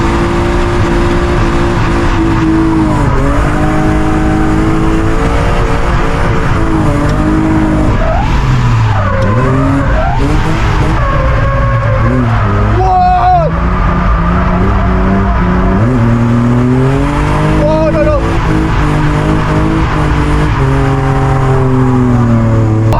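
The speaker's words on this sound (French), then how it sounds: "je pense les gars j'ai jamais roulé aussi vite en drift que là cette partie là" A car drifting fast around a race circuit, its engine roaring loud and constant while the tires squeal and skid in long sliding bursts, revs rising and falling through the corners, with no talk over it.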